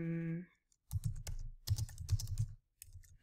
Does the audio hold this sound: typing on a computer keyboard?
yes